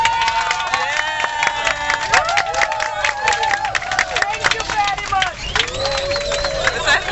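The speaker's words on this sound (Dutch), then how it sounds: "We zeggen het is een traditie dat wanneer je landt, dat je gaat klappen." Airplane passengers clap after landing on a flight arriving in the Netherlands, scattered applause and cheering from a cabin crowd with chatter and voices over it.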